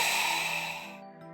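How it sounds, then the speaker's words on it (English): One strained, forceful breath out is pushed against a closed glottis, giving a broad breathy rush that fades over about a second, close and alone. "This is the sound of a huff with a closed glottis."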